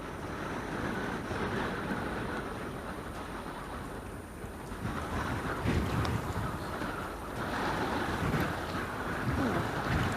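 Strong wind sweeps across an exposed links course at the Open Championship, a steady, close, roaring buffet against the microphone that swells and eases over several seconds with no voices.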